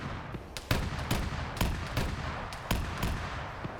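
Bursts of 23mm cannon fire aimed at an enemy MiG in a flight combat video game, several sharp loud volleys spaced irregularly over steady engine-like background noise.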